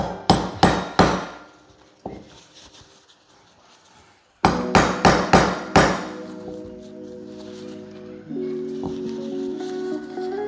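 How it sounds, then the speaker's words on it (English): Sharp metallic hammer strikes drive a blackout iron sight into a Glock 19 Gen 6 slide, coming in quick bursts of about four blows, a pause, then another burst, followed by faint ringing and light handling noises. "When you're hammering it in there, it honestly feels like you're gonna like snap it"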